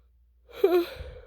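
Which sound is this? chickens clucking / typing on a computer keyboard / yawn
yawn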